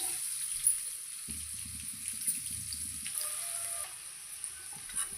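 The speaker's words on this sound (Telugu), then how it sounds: "ఇలా ఆయిల్ వేసుకున్న తర్వాత ఈ బటర్ కరిగిన తర్వాత కొన్ని ఉల్లిపాయలు వేసుకుందాం." Onions dropped into melted butter and oil for pav bhaji, a soft crackling sizzle that starts partway through and continues quietly alongside light stirring, close up with no talk.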